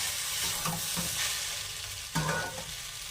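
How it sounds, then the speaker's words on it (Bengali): Pasta mixed with fried egg bhujia is stirred in a hot pan, a continuous close sizzle broken by several scraping strokes of the spoon, with no voices. "ডিমের ভুজিয়াটা ভেজে রেখেছিলাম, ওটা দিয়ে দিয়েছি পাস্তার মধ্যে। নেড়ে নেব ভালোভাবে।"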